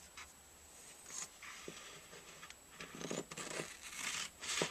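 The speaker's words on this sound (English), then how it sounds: "So it cuts very easily with a pair of sharp scissors." Sharp scissors snip through fluorescent green reflective tape in a few quiet, close cuts, with crisp slicing and crinkling over a faint background.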